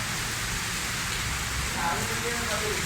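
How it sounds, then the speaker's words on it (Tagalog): Steady rain pours down in Dubai in a dense, even hiss, with a low rumble underneath. "May ulan na."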